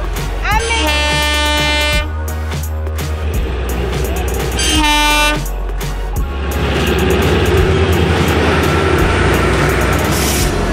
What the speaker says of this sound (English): Here comes the toy train.